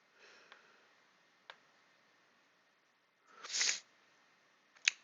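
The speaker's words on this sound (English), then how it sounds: "Sorry that I have to sniffle every once in a while." A person sniffling through the nose, with a few faint short sniffs followed by one louder drawn-in sniff and a final sharp one, alone in a quiet room.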